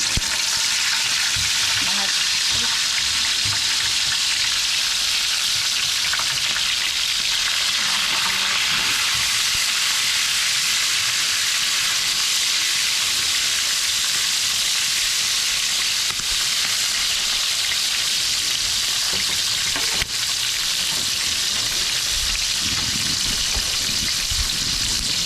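Freshly caught fish frying in hot oil in a pan, a loud, dense, steady sizzle and crackle lasting throughout, with faint voices now and then.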